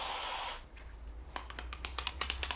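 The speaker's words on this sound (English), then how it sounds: "Spray some brake cleaner in it." A half-second hissing burst of aerosol brake cleaner sprayed into a stuck part on a BMW E46 325i straight-six engine, then a series of quick, soft clicks and ticks close by.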